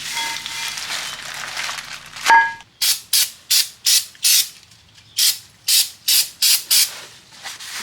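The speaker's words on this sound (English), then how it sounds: "it's a good practice to just spray it on with brake cleaner and wipe it off the front and the back" Brake cleaner is sprayed onto a front brake rotor of a 2007 Toyota Highlander Hybrid in ten sharp, close hissing bursts in a quick, even rhythm, following a brief rubbing sound and a clank.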